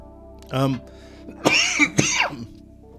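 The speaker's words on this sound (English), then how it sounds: "Still have that annoying cough." Close-up coughing: a short throaty hack, then two harsh, forceful coughs in quick succession, with quiet room tone between.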